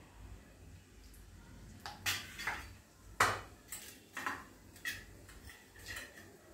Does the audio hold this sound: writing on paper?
no